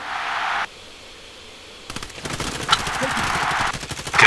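Rapid bursts of automatic gunfire in a multiplayer shooter video game, crackling loudly in quick repeated volleys across most of the clip after a brief quieter lull.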